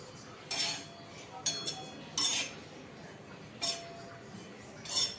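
Coconut being dry-roasted in a pan, heard as five separate sharp metallic scrapes and clinks of a utensil against the pan, spaced about a second apart over a quiet background.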